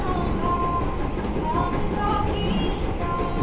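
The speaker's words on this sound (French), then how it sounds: "J'aime bien aussi cette structure là, le train." A metro train runs steadily in Jakarta, giving a constant rumbling roar with faint high squeals over it, close and even in loudness throughout.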